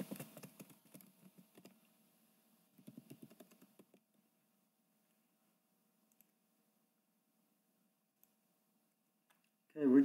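Brief bursts of computer keyboard typing in quick clicky runs, close and fairly faint, separated by silence, with a louder thump at the very end.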